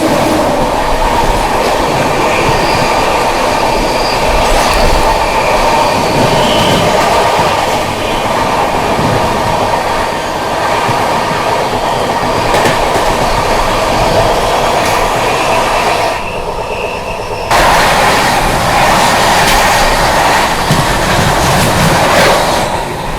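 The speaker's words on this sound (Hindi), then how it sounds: "सामने से आती हुई 12398 न्यू दिल्ली गया महाबोधि एक्सप्रेस।" The oncoming 12398 New Delhi–Gaya Mahabodhi Express passenger train passing close by on Indian railway track, a loud, continuous roar of rolling wagons with clickety-clack wheel rhythm and rushing air, no talk.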